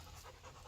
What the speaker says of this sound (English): sorry, my pup's in the background, so you may hear him